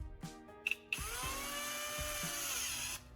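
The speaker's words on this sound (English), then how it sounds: "Turn the drill slowly while pressing sandpaper against the rod." A small drill spinning a graphite rod pressed against sandpaper whines steadily at close range after a few short starts, with a continuous high grinding hum that stops abruptly near the end.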